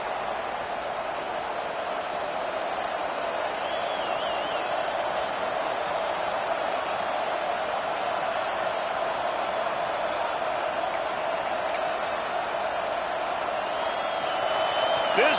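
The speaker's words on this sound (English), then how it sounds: "This crowd bringing the energy and noise early" A steady, distant roar of a large American football stadium crowd fills the air, constant and unbroken, with faint high whistles or squeaks now and then.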